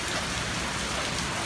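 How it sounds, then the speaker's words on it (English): Dense, steady hiss of heavy rain pouring down nearby, a continuous wash of drops with no voices. "it's raining pretty hard"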